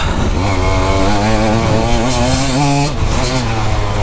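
A 2024 KTM EXC 150 dirt bike engine revs loud and close, its pitch climbing and falling through several hard throttle blips with a raspy, buzzing tone throughout.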